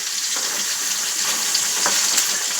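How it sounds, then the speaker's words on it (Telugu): Salted fish sizzles in hot oil as it fries until golden, a steady close hiss with faint crackles and no voices. "బాగా గోల్డ్ కలర్ వచ్చేంత వరకు వేపుకోండి"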